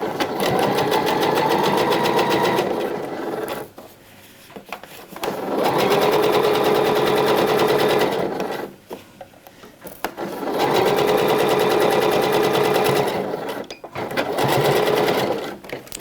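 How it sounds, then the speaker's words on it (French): Sewing machine stitching a seam on shorts, three loud bursts of rapid steady stitching, each a couple of seconds long, separated by short quiet pauses. "Je commence par la couture qui se situe à 7 mm de mon bord."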